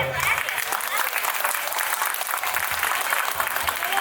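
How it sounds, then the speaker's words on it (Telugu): A crowd at a 2002 tenth-grade class reunion at SGS High School claps for their teachers, a loud, continuous patter of many hands lasting the whole stretch with voices mixed in. "వారందరికీ మనందరి తరఫున గట్టిగా చెప్పట్లు"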